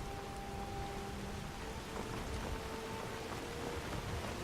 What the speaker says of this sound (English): Oh, this rain.